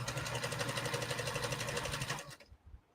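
A Kenmore sewing machine, freshly oiled with 3-in-1 oil, runs with a close, steady whirring hum for about two seconds, then winds down and stops.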